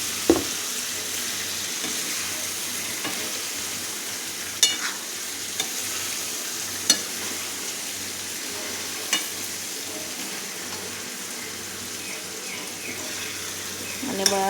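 Potatoes fry and bubble in a masala gravy in a pan, a continuous soft sizzle broken by several sharp clicks of a spoon scraping and stirring.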